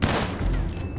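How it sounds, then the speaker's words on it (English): Rifle fire in the Rimworld video game comes as a dense, continuous burst of overlapping shots across about a second, loud and steady with no talking. "I got out and started firing my rifle."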